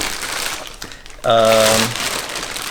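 Plastic bags and packaging crinkle loudly up close while a Joying 10-inch Android car stereo is unboxed, a dense rustling that swells and fades over a few seconds, with a brief tonal hum in the middle.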